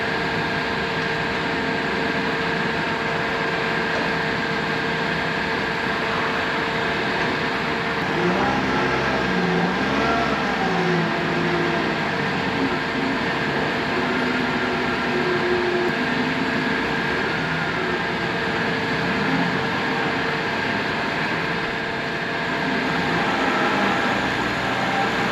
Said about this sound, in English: now we gotta back her up into the warehouse here, so we'll see how she tracks